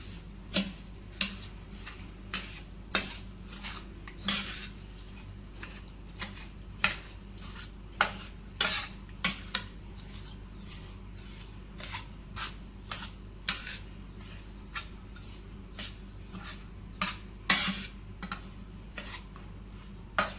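A spoon stirs a sugar and milk mixture in a bowl, making faint, regular metallic clinks and taps against the sides over a quiet background.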